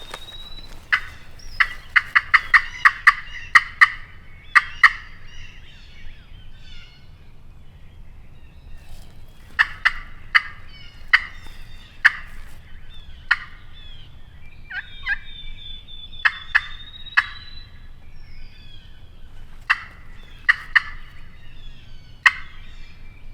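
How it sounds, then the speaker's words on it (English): A wild turkey gobbles repeatedly in the distance in Missouri spring woods, rapid rattling bursts coming in clusters over a quiet outdoor background. "they're gonna gobble."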